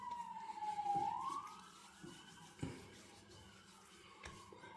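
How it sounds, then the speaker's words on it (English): Emergency vehicle sirens wail in the distance, a rising and falling tone that swells and then fades under scattered nearby knocks and rustles. "Comes the sirens."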